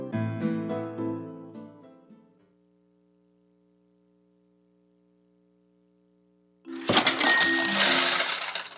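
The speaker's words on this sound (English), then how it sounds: "Hear that? That's the sound of your money working for you." A few coins clink and jingle, ringing out and fading to silence, then a burst of coins spills and rattles loudly at the end.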